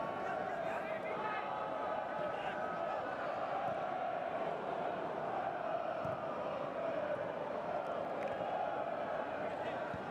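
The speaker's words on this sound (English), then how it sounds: "Oh, the crowd loving what they're seeing." Stadium crowd at a Bayern München versus Tottenham Hotspur club friendly football match, a steady loud roar of cheering spectators filling the whole stretch, with a commentator's voice running over it.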